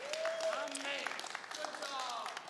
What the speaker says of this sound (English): you can clap that. Let's clap for it